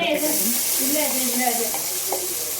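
Masala with curry leaves fries in about two tablespoons of oil for a Mangalore-style sardine sambar, giving a loud, continuous sizzle with faint stirring scrapes close by.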